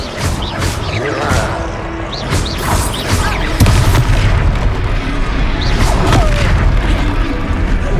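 An Expelliarmus spell blast in the Hogwarts Legacy video game, with booming magical impacts, crashes and whooshing bursts layered over a dense battle soundscape, loud and close, with character voices cutting in briefly.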